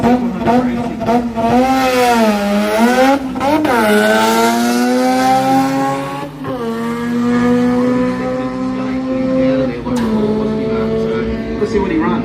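A drag racing car, a Toyota Corolla lined up against a Mazda, revs hard with a loud rising and falling engine note, rapid throttle blips and a high buzzing roar held throughout, with a commentator's voice talking over it.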